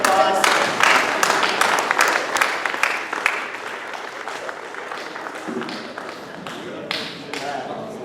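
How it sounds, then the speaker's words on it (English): An audience at a ZFS panel breaks into loud applause, dense clapping at first that gradually thins and fades, with some voices mixed in. "can we have a fucking round of applause?"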